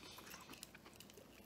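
Open-mouthed chewing of Arby's fast food during a close-up eating session, with soft wet smacking and crunchy bites repeating steadily for a second and a half, no talking.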